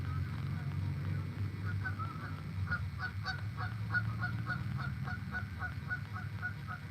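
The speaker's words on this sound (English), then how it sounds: "Tons of geese out here too. I'm sure you can hear them." Distant geese honk repeatedly and irregularly over a steady outdoor rumble, the calls faint but persistent throughout.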